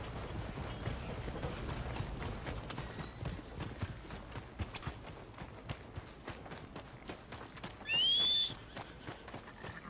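Steady clip-clop of horse hooves trotting close by in Red Dead Redemption 2, with a brief whistle-like tone near the end.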